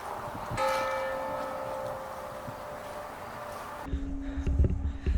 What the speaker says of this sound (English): That is the final bell